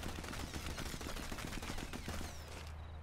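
Rifle gunfire from the video game Sniper Elite 4: a steady run of rapid, loud shots with a constant low rumble beneath, continuing for most of the stretch before easing off at the end.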